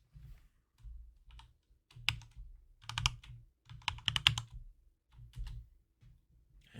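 Computer keyboard typing mixed with mouse clicks during a VMware server lab session, close and fairly quiet, arriving in irregular bursts of rapid keystrokes separated by short pauses.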